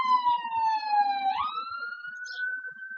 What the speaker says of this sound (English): siren in the background.